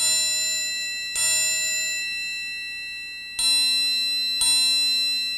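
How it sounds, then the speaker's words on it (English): A metal triangle is struck square three times, each hit ringing with a clear bell-like pitch and shimmering overtones that slowly fade. "Here's that bell sound if we catch it square."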